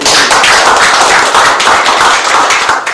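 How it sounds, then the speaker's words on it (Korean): An audience gives loud, dense applause to welcome a soprano singer, with many hands clapping continuously and close for several seconds. "큰 박수 드립니다"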